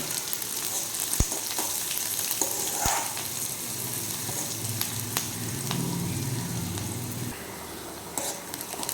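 Chopped onions frying in a pan with mustard seeds and curry leaves for carrot poriyal, a continuous moderate sizzle with occasional sharp crackles and the scrape of stirring.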